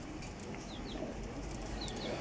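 Pigeons of a flying breed kept for sale coo softly, joined by a few high chirps and brief flutters against a steady outdoor background hum.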